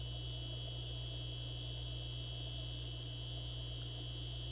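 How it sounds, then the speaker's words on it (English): A muffled wall-mounted alarm sounds steadily inside an apartment, a continuous high buzzing tone held over a low hum for the whole stretch, moderately loud and without talk. "It must have heard the alarm in my house."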